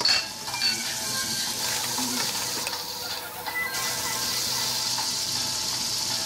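Shrimp sizzle steadily in a hot pan for pancit, a dense continuous crackle and hiss with occasional faint clinks of a utensil and no voices.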